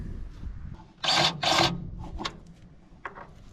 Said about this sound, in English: we like to grease the baler at the end of season, so all the fittings that have wear are full of grease